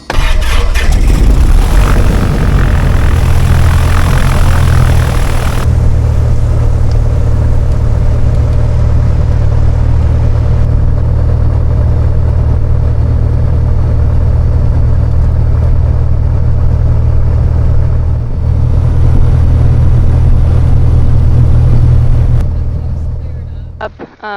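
A light aircraft's propeller engine cranks and catches, then settles into a loud, steady, droning run for over twenty seconds, with voices talking in the cockpit over it.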